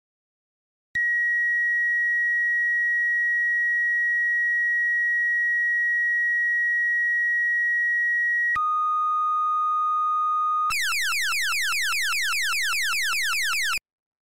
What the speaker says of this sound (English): Here's the Station 1 fire tone.